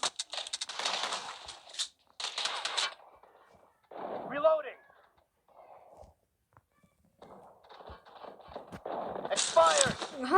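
Gunfire in PUBG Mobile comes as bursts of shots early on and again near the end, separated by quieter game effects, with someone talking intermittently over it.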